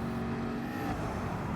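Gr.3 race car engine in Gran Turismo 7, a steady loud high-revving roar held at speed, close and unbroken for the whole moment, no talking.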